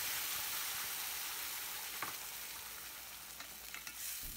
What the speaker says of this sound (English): Now add the grounded chutney to this tempering.